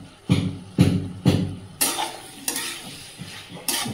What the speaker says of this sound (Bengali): গ্যাসটা কমিয়ে ভালো করে কষিয়ে নেবো এইভাবে